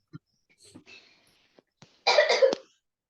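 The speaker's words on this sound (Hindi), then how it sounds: "भाई काफी खांसी हो रहा है आजकल लोगों को" A person coughs in a classroom-style lesson: a few faint breaths and small throat sounds, then a loud, harsh burst of two or three close coughs.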